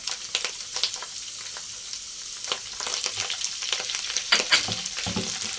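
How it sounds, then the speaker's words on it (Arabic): Mushrooms frying with onions in a pan, a dense close sizzle broken by spatula scrapes and clicks as the pieces are tossed. "بدي اقلي الفطر مع البصل"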